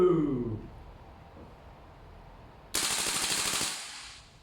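A VFC SR-16 E3 airsoft gas blowback rifle fires a short full-auto burst, a rapid crackling string of shots that ends abruptly after a quieter stretch.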